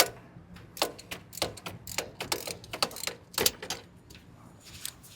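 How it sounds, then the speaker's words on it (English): Quick ratchet wrench clicks loosening a 14 mm bolt on a 2011 Toyota Camry starter, coming in uneven bursts of sharp ticking with short pauses between pulls, fairly quiet and close up. "Got my 14. Loosen up this bolt."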